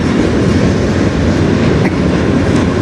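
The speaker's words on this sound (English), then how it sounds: "I'm expecting a loco in the middle because this is coming from the tunnel, right?" Freight train with several locomotives rolling past, a loud continuous broadband roar with faint wheel clatter, close and unbroken for the whole stretch with no voices.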